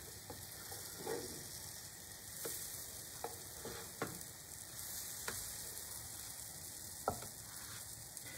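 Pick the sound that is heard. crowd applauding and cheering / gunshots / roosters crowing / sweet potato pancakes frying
sweet potato pancakes frying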